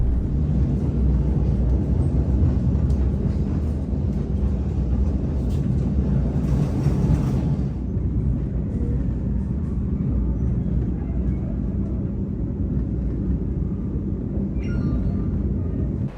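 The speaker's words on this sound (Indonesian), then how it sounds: "Perjalanan kereta api Argo Wilis yang saya naiki kini telah tiba di stasiun Tugu, Yogyakarta." The Argo Wilis executive train pulls into Tugu station in Yogyakarta, heard from inside the carriage as a loud, steady low rumble. A brief brighter hiss comes partway through, then the rumble eases slightly and carries on.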